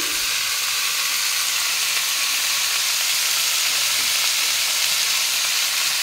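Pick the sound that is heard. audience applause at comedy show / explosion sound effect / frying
frying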